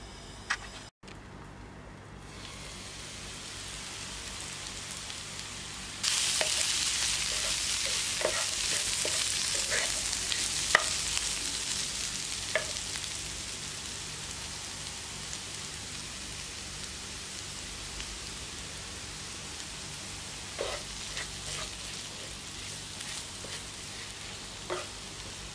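Prawn roast masala with fennel fries in a pan. A faint background starts a crackling sizzle about a quarter of the way in, with occasional sharp stirring clicks and scrapes, close and fairly soft, fading slightly later on.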